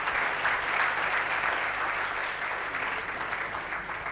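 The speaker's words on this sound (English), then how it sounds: "give yourself one more time a big round of applause" A conference audience at an annual professional gathering applauds continuously, a dense, steady wash of many hands clapping that holds at an even level for the whole stretch, heard alone without speech.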